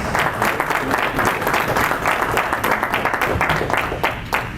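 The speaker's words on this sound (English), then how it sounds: "A round of applause" A dense, steady wash of audience clapping fills the room at an evening business coalition gala as Congressman Danny K. Davis is welcomed, loud and sustained without a break.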